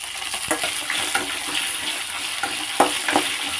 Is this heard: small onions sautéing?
yes